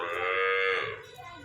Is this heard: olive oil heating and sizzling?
no